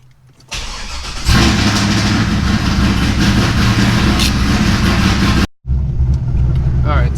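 A cammed C5 Corvette engine cranks and fires up, settling into a loud, choppy idle with a brief cut before the lumpy rumble resumes close by.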